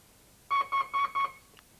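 A 1996 Rover 800's alarm system sounds four short, evenly spaced electronic warning beeps when locking is tried with a door open, clear and close against a quiet background.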